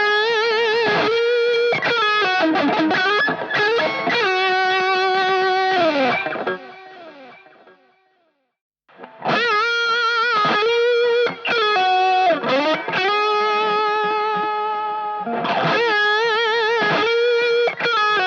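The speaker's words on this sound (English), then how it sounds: "And now let's check out some overdriven tones." Overdriven electric guitar played through a Valeton GP-5 effects unit: loud, sustained distorted chords and riffs, a brief silence midway, then more overdriven playing, with no voices.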